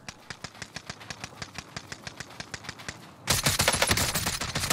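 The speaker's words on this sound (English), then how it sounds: "I'm getting shot" Rapid gunfire from the Call of Duty Warzone video game rattles in an even burst of sharp shots, then grows louder and denser with a heavier volley at the end.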